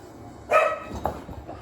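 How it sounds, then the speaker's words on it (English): Several dogs bark indoors, a loud burst of barks followed by a few quieter yips and woofs over faint background noise. "now my dogs are barking"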